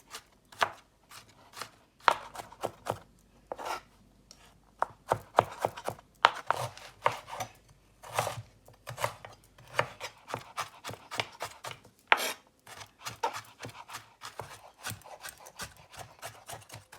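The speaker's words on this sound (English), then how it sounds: "Finally chop up the garlic," A knife chops garlic on a cutting board in a home kitchen, with steady rapid taps and a few sharper strikes, close and clear with no talking.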